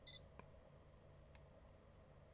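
Sony DSC-HX90V compact camera running its self-timer gives a quick pair of close, high electronic beeps at the start, followed by a faint tick and a softer chirp against a quiet room hum.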